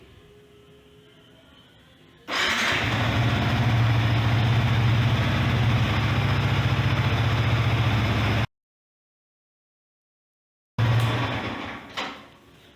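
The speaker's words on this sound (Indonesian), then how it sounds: "Jadi yang kita lakukan pertama adalah kita panaskan dulu mesinnya" Yamaha Vixion R motorcycle engine idling during warm-up: a steady, close, loud low hum that starts abruptly after quiet, runs for several seconds, cuts out, then briefly returns.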